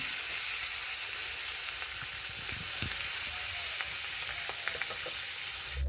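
Fish heads frying in hot oil in a wok give a steady broadband sizzle with scattered small pops and crackles, close and continuous throughout.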